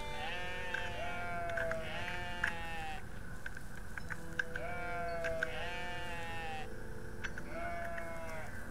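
Repeated sheep bleats from the video game OneShot, several wavering calls in rhythmic bursts over a steady backdrop of game music, loud and close with no talk.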